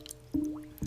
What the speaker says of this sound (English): hear the air bubble and boil out of the pipe